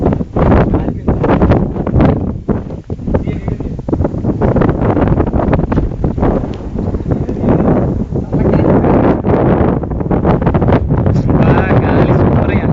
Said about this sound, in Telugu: గాలి సూపర్